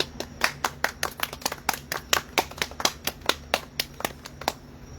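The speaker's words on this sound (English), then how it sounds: "Everybody give me a round of applause." A small group claps unevenly, a sparse patter of distinct handclaps coming in quick irregular bursts, close and fairly quiet, with no talk over it.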